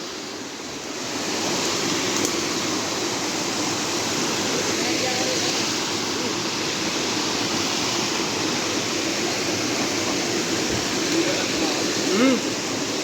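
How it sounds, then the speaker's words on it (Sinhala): Steady rushing of flowing water fills the whole stretch, a constant close hiss with a faint voice near the end. "අඩි ලස්සන වතුර පාරක් යාළුවනේ."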